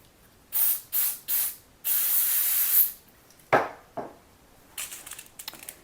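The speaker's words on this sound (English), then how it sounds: "I'm going to spray some more static guard." Static Guard anti-static spray is sprayed from an aerosol can over diamond painting canvases, three short close bursts and then one longer hiss, with a few softer scattered spritzes afterward.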